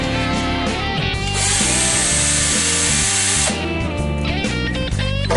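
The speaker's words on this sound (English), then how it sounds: "With a 9mm wood drill bit, drill the four marked holes on the inside of the top case." A power drill with a 9mm wood bit bores holes in a plastic scooter top box for a Vespa GTS 250ie. It whirs loudly and close, rising and dropping in pitch as the bit bites and eases off, and no one speaks.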